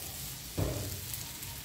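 Half-cooked chiles sizzle in a pan for machaca con rajas, a steady soft frying hiss with a brief louder burst partway through, heard alone at low volume.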